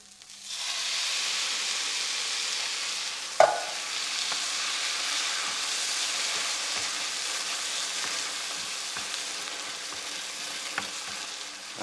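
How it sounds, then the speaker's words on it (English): Tinned tomatoes simmering for a chunky nacho sauce, a soft steady bubbling hiss with one sharp clank early on and a few light stirring scrapes, close and alone without speech. "we're just going to let that simmer for 2 or 3 minutes"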